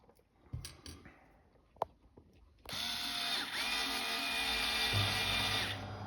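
A power drill drives a screw into a bracket, starting with a few clicks and taps, then a sustained whirring motor run of about three seconds that shifts pitch slightly near the end.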